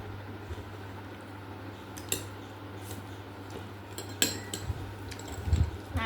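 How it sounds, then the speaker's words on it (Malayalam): Cutlery stirring pasta on a plate, with sparse light clinks and scrapes of metal on the dish against a steady low hum in a quiet room. "പാസ്ത ഒന്ന് ഇളക്കി കഴിച്ച് കഴിച്ചു നോക്കാം"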